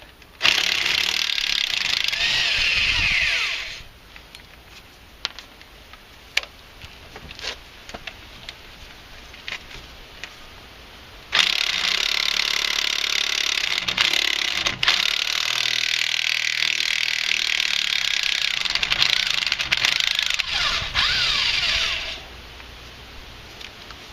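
A power tool drives out the front strut's lower bolts on a 2001–2006 Hyundai Santa Fe, two loud sustained whirring bursts separated by a quieter stretch of small clinks and handling noises, close up with no speech.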